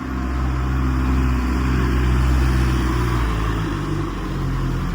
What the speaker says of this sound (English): The car coming up the hill.